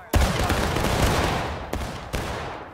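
Musket volley fire in the Civil War video game War of Rights: a loud, sharp massed crash followed by a few scattered later shots, with fading rumble between them.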